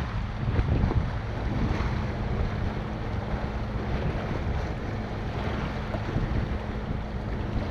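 Sailboat under way between Greek islands, with steady wind rushing across the microphone and water washing along the hull in a continuous, fairly loud wash.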